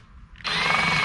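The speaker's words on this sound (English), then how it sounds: "you're going to come in on the back side, and you're just going to drill out this side" A power drill bores out a rivet on a Casita travel trailer, spinning up abruptly into a loud, steady high whine after a brief quiet start.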